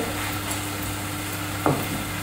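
Small pieces of garlic fry for split pea dahl, a steady close sizzle with a single sharp stirring scrape near the end, no voices.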